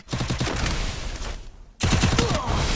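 Rapid automatic gunfire from UMP and M807 weapons in a Free Fire one-on-one match rattles loudly in close bursts, cuts out briefly, then resumes.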